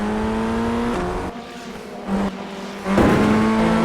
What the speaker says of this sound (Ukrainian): І я користуюся цим моментом, проходжу Багрія по внутрішній траєкторії.